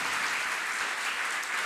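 Dense, steady applause from a temple congregation honoring the donor of a permanent canopy over the deity, loud and continuous throughout, cutting off abruptly at the end.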